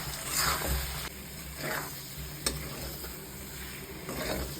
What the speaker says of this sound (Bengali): খুব ভালো করে এবার কষাবো মশলাটা দিয়ে।